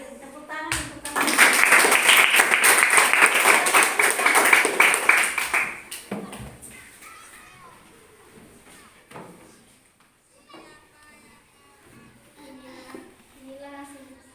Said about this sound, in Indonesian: tepuk tangan untuk kami